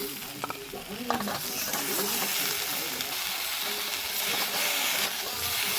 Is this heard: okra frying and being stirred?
yes